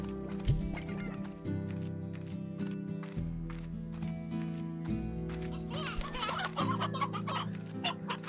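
A hen clucks in a farming video game, several short bursts of clucking over a steady synthetic music drone, with other faint game effects around them.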